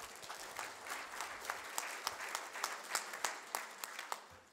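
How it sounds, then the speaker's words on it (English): Audience applause at the DAV 2016 Mid-Winter Conference: scattered hand claps in a quiet hall, fairly faint and distant, with a few sharper individual claps standing out over a soft steady patter. "Oh, you can clap, it's okay"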